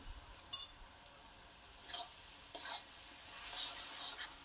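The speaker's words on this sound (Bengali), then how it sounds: "ভালোভাবে মিশিয়ে নিচ্ছি।" Cabbage curry with garam masala is stirred in a pan, quiet soft scraping strokes over a low sizzle, with a few brief louder bursts of stirring spaced apart.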